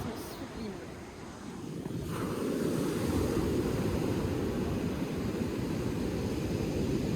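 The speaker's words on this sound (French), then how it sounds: "Regardez-moi ces vagues là." Ocean surf breaks on a sandy beach at Anglet in a broad, continuous roar that swells and stays loud, mixed with buffeting wind on the microphone.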